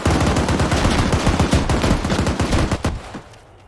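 Fast, loud automatic gunfire from Arma 3 rattles in a steady burst of rapid shots for about three seconds, then cuts off into a fading echo.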